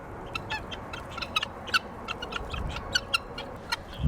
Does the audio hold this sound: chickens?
yes